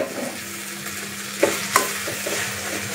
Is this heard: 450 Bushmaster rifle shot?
no